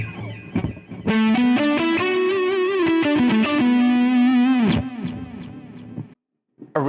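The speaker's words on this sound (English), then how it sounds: "So on the delay, I'm using a ping pong." Distorted Stratocaster electric guitar with ping-pong delay set to quarter notes, tuned for a metal tone: a loud sustained lead line with bends and vibrato, repeats bouncing behind it, ringing out before a short gap and a fresh attack.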